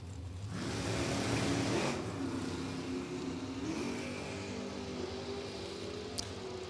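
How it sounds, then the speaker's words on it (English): Two drag racing cars, a 1987 Monte Carlo SS and a 2002 Pontiac Firebird with a 434-cubic-inch Chevrolet engine, roaring down the strip at a dragway, a loud sustained engine drone that swells then gradually recedes. "they both charge to the finish line"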